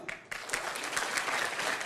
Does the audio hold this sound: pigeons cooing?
no